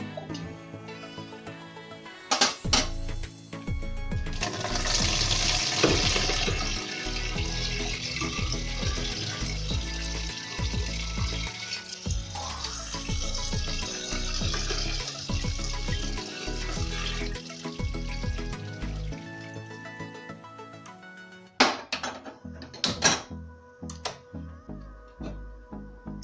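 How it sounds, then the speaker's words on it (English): Cooked French beans and broccoli being strained and rinsed with cold water in a kitchen sink, water splashing and running in bursts over several seconds, then a few clatters and knocks after it stops. "you strain off your water and rinse with cold water so that they can stop cooking"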